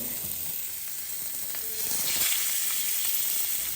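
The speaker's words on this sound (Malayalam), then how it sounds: "വേറൊരു മീൻ ഉപ്പാക്ക് വേണ്ടി പൊരിക്കുന്നുണ്ട്" Fish frying in a pan for a home meal gives a steady, close hissing sizzle that holds the whole time and swells a little louder partway through, with no voices.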